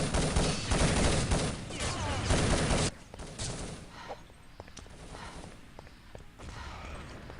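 Competitive online shooter match between France and Hungary, with a dense burst of rapid gunfire and an explosion-like blast for about three seconds, then scattered distant shots, clicks and footsteps at lower level.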